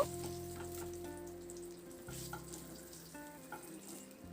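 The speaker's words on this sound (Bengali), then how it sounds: "বেগুনটাকে রান্না করার আগে এইভাবে করে একটু ভেজে নিয়ে তুলে রাখবো" Steady crackling sizzle of eggplant pieces frying in hot oil, with occasional clinks of a utensil stirring in the pan, close up and continuous.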